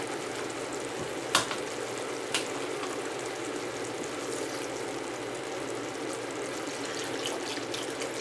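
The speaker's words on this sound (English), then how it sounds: "I'm now going to add 2 quarts of beef broth" Beef broth is poured into a pot of caramelized onions for Tuscan onion soup, bringing a continuous close sizzle and bubbling with a couple of faint clinks.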